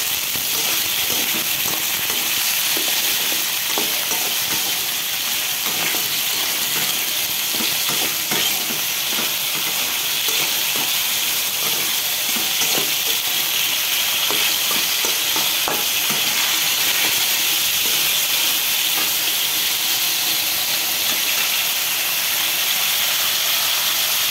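Capsicum frying in a pan while being stirred, a loud steady hiss and sizzle with repeated scraping stirs throughout, close and without talk.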